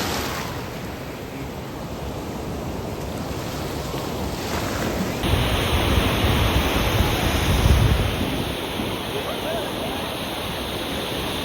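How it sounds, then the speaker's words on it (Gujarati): Big ocean waves surging onto Baga beach in Goa, a steady loud roar of surf that swells louder midway and stays continuous throughout, with no talk over it. "મોજા જો કેવા સરસ સરસ આવે મોટા મોટા"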